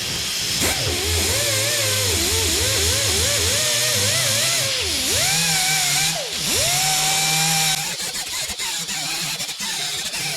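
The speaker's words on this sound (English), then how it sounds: "So you can see how well those little discs work, and they don't really dig into the metal." A rotary tool fitted with small abrasive discs strips peeling paint from a GM car, giving a loud, continuous high whine whose pitch wavers and dips under load, then a rougher grinding scrape near the end.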